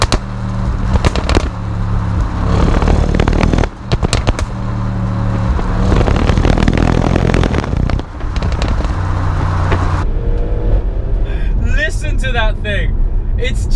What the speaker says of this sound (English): Introducing the Stuttgart Symphony that is the V8 twin turbo